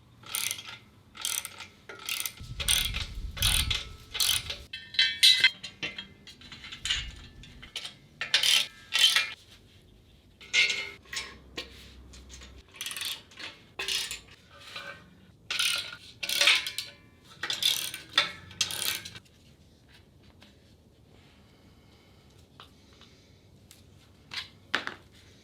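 Ratchet tightening bolts on a Force USA F-HG400 home gym frame, some parts slightly bent: repeated bursts of quick metallic clicking with short pauses, close and fairly loud, trailing into quiet near the end.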